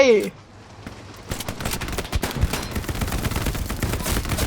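Rapid gunfire and machine-gun bursts in the WW2 game Hell Let Loose, dense and sustained after a brief quiet moment, with a voice talking under the shooting.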